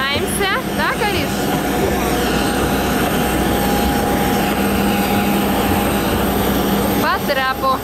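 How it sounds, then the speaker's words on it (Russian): Loud, constant roar of a passenger airplane's engines while passengers climb the boarding stairs, a steady drone filling the whole stretch, with brief chirping sounds at the start and end. "Вот и наш самолетик."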